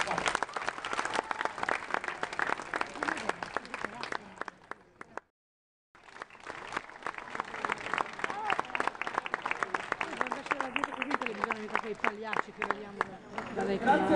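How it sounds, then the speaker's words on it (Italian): A street performance crowd claps steadily in a dense round of applause, stops for about a second, then resumes just as strongly, with voices mixed into the clatter. "Grazie mille comunque per l'applauso"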